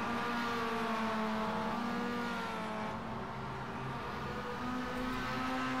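Several Mazda MX-5 Cup race cars at Brands Hatch in the iRacing sim, engines droning steadily with shifting pitches as the pack races together, continuous and fairly loud with no talk.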